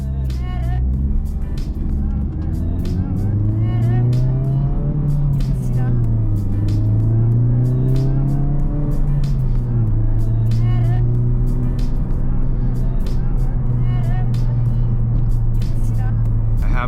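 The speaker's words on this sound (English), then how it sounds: "this is the loudest setting I think the car comes with as far as the stock exhaust goes" Honda Civic Type R FL5 on the road with its stock exhaust in R+ mode, a steady deep engine drone that rises and falls with throttle throughout, heard from inside the cabin with a voice talking over it.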